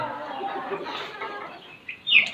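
Hen on a farm clucking and calling, with a busy mix of farmyard fowl sounds throughout and a sharper, louder squawk near the end; no talking.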